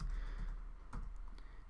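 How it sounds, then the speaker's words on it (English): Computer keyboard typing for a custom sensor attributes file in ERDAS IMAGINE, a few soft scattered keystrokes close to the microphone over a steady low hum, with no talking. "Now I'm just typing it in as an example here."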